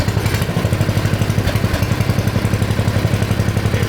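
Big block Briggs engine on a longitudinal-engine mini bike running hard, a loud close-up rapid chugging pulse with metallic clatter, steady and unbroken throughout.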